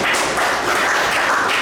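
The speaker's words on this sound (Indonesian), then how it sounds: "Beri tepuk tangan untuk Mas Rehan." A classroom audience applauds a student after an electrical wiring demonstration: dense, steady clapping filling the short stretch at a constant loud level.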